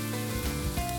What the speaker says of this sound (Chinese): 锅内放入食用油，将洋葱、蒜头、马铃薯、红萝卜以及香菇一起入锅炒香。